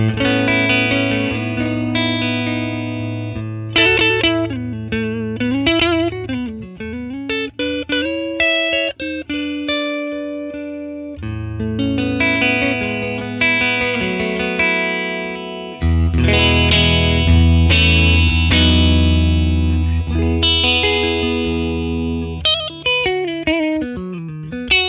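A Les Paul electric guitar on its neck pickup plays through a 1957 Tweed Bassman amp model, sustained chords and bending single-note lines with light overdrive and reverb ambience, loud and close, no voices.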